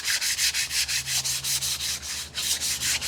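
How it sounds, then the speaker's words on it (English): Fine 400-grit sandpaper rubbed lightly over wood, a steady back-and-forth hiss in even strokes, about a dozen close, soft swishes with no talk. "very, very, very fine sandpaper, and we'll put some in your kit, probably about 400 or even finer, and you just rub it"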